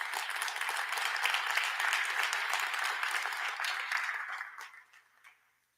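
Audience applause at a City of Flint state of the city address, a steady wash of clapping from a seated crowd that fades out over the last second.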